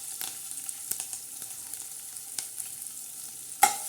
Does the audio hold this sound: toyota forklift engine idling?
no